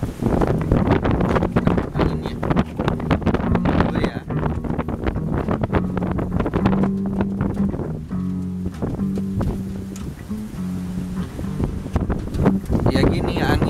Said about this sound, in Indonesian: anginnya semakin besar gitu